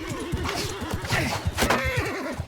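Several horses whinny and neigh in quick succession over hoof clatter and battle noise in the video game Mount and Blade Bannerlord, loud and close.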